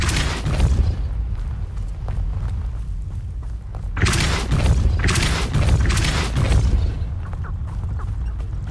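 Depulso force spell cast in Hogwarts Legacy during a Merlin trial, heavy booming impacts with deep rumbling thuds, one burst near the start and a louder cluster of blasts midway, alone without talk.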